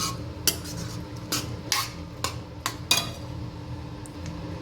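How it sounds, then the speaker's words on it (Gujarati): Spoon clinks and scrapes against a metal cooking pot while chickpeas are stirred for a curry, about seven sharp metallic taps spread over a few seconds with a low background hum. "ચણા નાખીને હલાવીશું"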